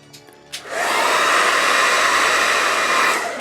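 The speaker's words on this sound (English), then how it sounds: "by heating it up, either with warm water or a hairdryer" A hairdryer switches on after a couple of soft clicks and blows with a steady, loud rushing hiss for nearly three seconds. It is warming a vintage Masters of the Universe action figure's replacement leg connector, and no one speaks.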